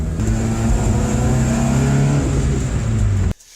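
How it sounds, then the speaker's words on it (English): A Mitsubishi Eclipse engine drones loud and steady while the car is driven, its pitch climbing through a long rev before cutting off abruptly at the end. "Caleb even let me drive his Eclipse"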